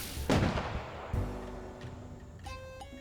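Firework explosions in the video game Relic Arena: a loud booming burst, then a second heavy blast about a second later, trailing into a rumble and a few bright chiming tones near the end.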